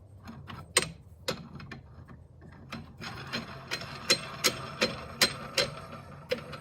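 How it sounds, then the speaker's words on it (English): Metal parts of a slide hammer puller set are handled as the cone is flipped and refitted, giving sharp clicks and clacks: sparse at first, then a quicker, fairly regular run of close, crisp taps. "We're going to take our cone and flip it 180 degrees."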